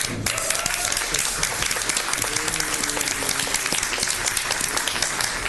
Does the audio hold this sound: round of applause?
yes